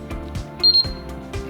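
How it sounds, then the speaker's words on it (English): Moore & Wright M198 Premium Line digital height gauge giving a short, bright double electronic beep as its stylus takes a measurement, close and clear amid light handling clicks. "Apply the force and wait for the gauge to beep."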